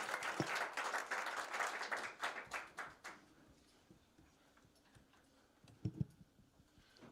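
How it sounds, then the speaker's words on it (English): An audience applauds a conference panel, a fairly faint burst of clapping for about three seconds that dies away to scattered claps in a quiet hall. "Big applause."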